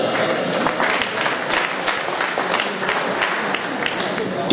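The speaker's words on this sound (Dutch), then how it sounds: "Een applaus voor Karen Verstappen." Steady applause from an audience at a women's cyclocross team presentation, a dense even patter of many hands holding at a constant level throughout.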